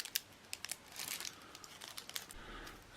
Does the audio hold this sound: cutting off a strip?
yes